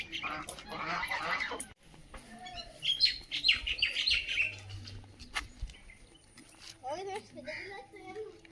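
A small flock of ducks with grown ducklings calls in honking, quacking bursts close by, mixed with chirping birds and people talking.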